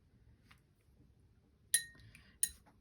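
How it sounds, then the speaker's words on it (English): A paintbrush rinsed in a glass of water while painting loose watercolour flowers: two short, bright clinks as the brush knocks against the glass, the second a little after the first, with quiet surroundings otherwise. "rinse your brush off."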